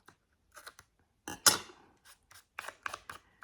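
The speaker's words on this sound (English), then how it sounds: "I'm just going to grab those scissors because I don't want it that long" Scissors snip through tear tape during scrapbooking on a small mini album, giving a series of short, crisp cuts in an irregular rhythm, close and clear against quiet.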